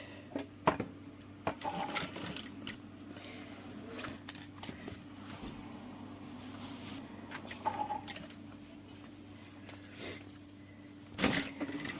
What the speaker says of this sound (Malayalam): സ്റ്റിച്ച് ചെയ്യുന്ന വിധമാണ് കാണിക്കുന്നത്.